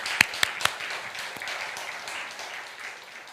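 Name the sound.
congregation applause in church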